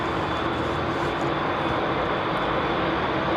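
Rolls-Royce Trent 700 engines on a Virgin A330 at London Heathrow Airport, a steady, loud broadband roar with a faint whining tone running through it.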